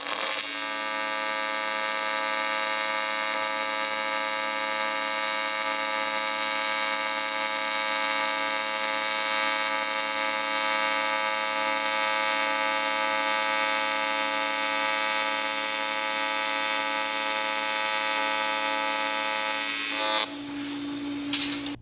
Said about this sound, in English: I'm going to go back up to 110 hertz where I'm comfortable welding